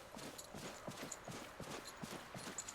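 Horse hooves clip-clop in a steady, quick rhythm in Disney Dreamlight Valley, a life-simulation video game, with soft, muted hoof beats running through the whole stretch over a faint background bed.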